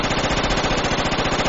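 Sustained automatic gunfire from the video game Project Reality, a loud continuous rattling burst that fills the whole moment with no voices over it.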